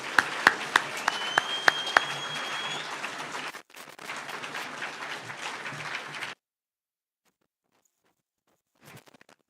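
An audience at the Engineering in Kenya annual convention in Mombasa claps to welcome a dignitary, a dense, sharp round of applause that breaks off, resumes, then stops dead into silence, with a faint burst near the end.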